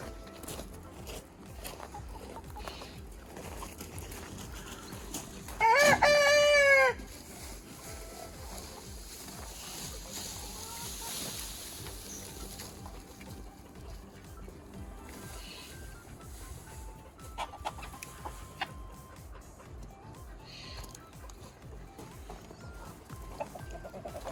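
Several German Faverolles chickens cluck and crow in a coop, with one loud rooster crow standing out near the start above a steady backdrop of hen clucking and barnyard noise.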